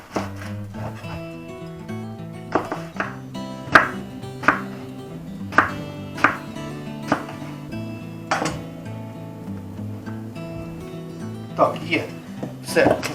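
Vegetables being chopped with a knife on a board while a meal is prepared outdoors, with a series of sharp, irregular cutting knocks close by over background music, and a person speaking in between the chops.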